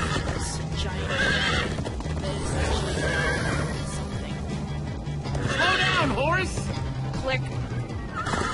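Horses in Minecraft: Story Mode neigh and whinny loudly several times over clip-clopping hooves, with characters talking throughout.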